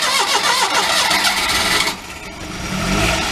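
Clapped-out Daihatsu mini truck with a blown engine and leaking carburetor cranks and catches, a loud rattling start that settles into a lower, rougher idle, close up.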